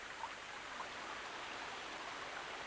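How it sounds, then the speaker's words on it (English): A river pours steadily over a weir, a low stone wall running across the channel, producing a constant broad rushing wash of water heard alone at moderate distance. "This kind of dam is called a weir, and the weir makes the river deeper up here because the water can't run away so quickly."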